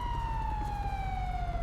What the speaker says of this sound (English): kill the sirens on whoever's got sirens real quick